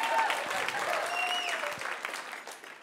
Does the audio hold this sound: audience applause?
yes